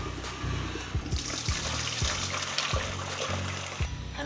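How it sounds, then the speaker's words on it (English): Boiling water is poured into a bowl in a continuous trickling splash, with faint regular knocks sounding under the flow. "This is when you put boiling water into a bowl."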